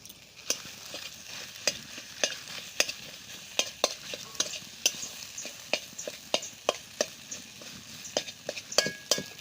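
Grated potato being stir-fried with spices and prawn paste in a pan: a soft sizzle under a steady run of regular spatula scrapes and clinks against the metal, close and fairly quiet.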